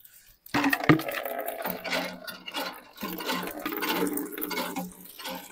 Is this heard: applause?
no